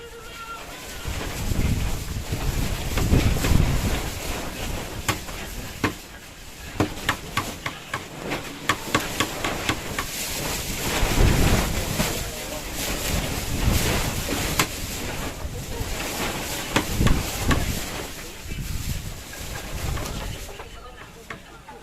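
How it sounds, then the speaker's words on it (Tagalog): Strong wind roars and buffets the microphone in rough gusts, with water and an engine faintly underneath. "Marman, lakas po talaga yung hangin"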